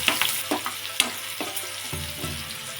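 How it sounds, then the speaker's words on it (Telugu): Onions and chillies frying in about three spoons of hot oil in a pan for egg prawn curry, giving a steady close sizzle broken by several sharp stirring scrapes and clacks, with no talking. "ఆనియన్స్ ఫ్రై అయినాయి."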